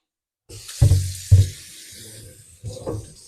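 Tap water runs over seasoned raw meat in a kitchen sink, starting after a short silence with two loud splashing gushes, then a softer steady trickle and a final splash near the end.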